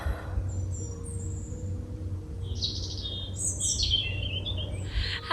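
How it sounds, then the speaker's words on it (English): Birds sing and chirp outside a 270-year-old country cottage in Wales, with several bright, fairly distant calls over a low steady background hum. "bird song"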